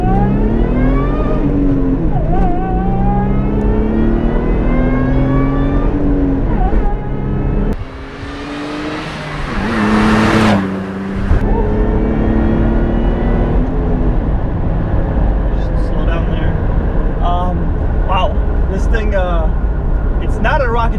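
Supercharged 2007 Toyota FJ Cruiser TRD with a six-speed manual pulling hard through the gears from inside the cab, engine note climbing in rising sweeps with brief drops at each shift, a loud whooshing burst midway, and someone talking over it.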